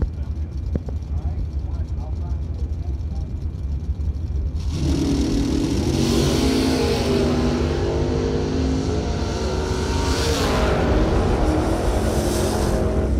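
Pontiac Firebird and Oldsmobile Starfire drag racing at a bracket race: a loud, steady engine roar swells in after a quieter stretch of crowd ambience, with revving surges, and talk over it.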